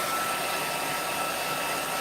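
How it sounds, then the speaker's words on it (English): A blow dryer runs steadily at close range, a loud constant whooshing roar with no change in pitch or level and no voices. "now this is a blow dryer, so it's going to have some sound to it"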